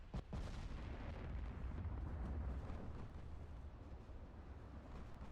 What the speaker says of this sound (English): That's another torpedo landed.